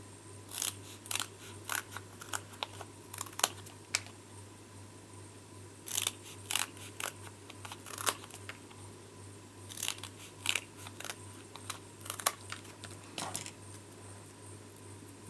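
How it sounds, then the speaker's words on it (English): Scissors snipping paper strips for a handmade card, a run of crisp, close cuts in irregular bursts over a steady low hum, with no talking. "So let's cut 4 more strips."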